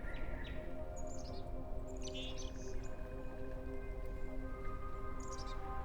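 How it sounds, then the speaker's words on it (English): Several birds sing and chirp outdoors in short, bright, scattered phrases at moderate distance, faint and recurring over a steady low background hum, with no voices. "listening to the birds singing"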